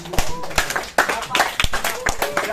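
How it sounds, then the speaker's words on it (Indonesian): Audience in a vocational training class clapping, irregular hand claps mixed with voices talking over them, close and fairly loud. "tepuk tangan dulu"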